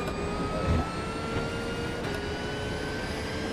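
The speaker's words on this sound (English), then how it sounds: "if you sit on the left front suspension and hear the sound of the vehicle, it sounds like a jet engine when it gets up to speed almost" Race car in iRacing at Spa 24-hour endurance event, transmission mounted ahead of the engine giving a steady high jet-like whine with sustained tonal lines, continuous and fairly loud throughout with no talk.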